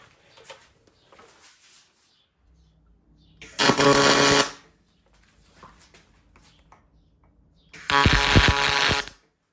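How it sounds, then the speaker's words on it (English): A Miller 255 pulse MIG welder fires two separate tack welds on steel tube, each a loud, harsh, buzzing crackle lasting about a second, separated by quiet shop clatter. "If it sounds funny, this is pulse MIG on the Miller 255."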